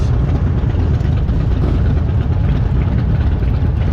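A large group of motorcycles rides out together on a Christmas toy run, many bikes decorated for the holiday, producing a loud, continuous engine rumble that stays steady and dense throughout with no talk.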